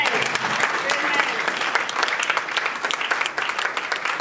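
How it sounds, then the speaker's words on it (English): Church congregation clapping hands during a crossover night praise and worship session, dense sustained applause-like clapping from many people filling the room, with voices mixed in beneath it. "Somebody to clap hands."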